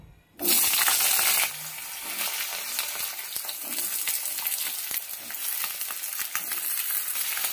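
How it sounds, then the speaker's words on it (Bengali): Thick-cut potatoes drop into hot mustard oil with a loud burst of sizzling, which settles into a continuous close crackling fry punctuated by small pops and clicks. "এবার আলু ভাজার থেকে মোটা মোটা যে আলুটা কাটা হয়েছে ওটাও ভেজে নেব।"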